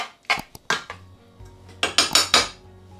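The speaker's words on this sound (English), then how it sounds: "Pasta is ready and I've drained it, and I'm now putting it back in the pot. I'll add a little sauce first." Drained pasta tipped back into a metal cooking pot and stirred with sauce: a run of clanking, scraping strikes of utensil against pot, several sharp knocks close by, with no talking.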